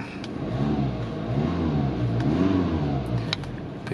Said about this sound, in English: I'll just show you it ticking over so you can see.